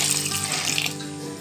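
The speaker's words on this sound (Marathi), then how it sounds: "या बटाट्यांमध्ये मीठ, कुकर जास्त काळं होऊ नये म्हणून लिंबू आणि उकडण्यासाठी पाणी टाकूया।" Water is poured into a pressure cooker holding potatoes with salt and lemon, a close, continuous gushing splash lasting a moment.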